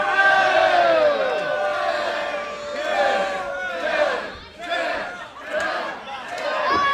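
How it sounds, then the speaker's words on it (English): A wrestling arena crowd half-heartedly chants a ten countdown, rising and falling in uneven waves of massed voices that swell and dip several times, loud and roomy. "Very half-hearted 10-10-10 from the crowd when VSK does it."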